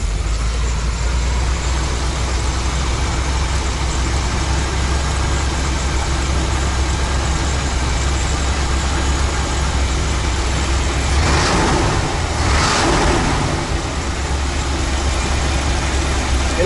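The engine of a 1984 Dodge Van idles loud and close with a steady, low rumble, and a brief swell of noise rises over it near the end.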